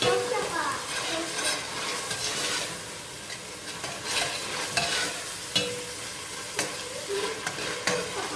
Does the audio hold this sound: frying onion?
yes